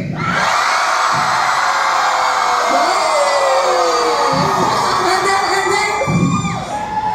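Fans screaming at a concert during the Festa Tour 2023 in Charlotte, a loud sustained crowd roar of high shrieks and cheers that swells and holds for several seconds.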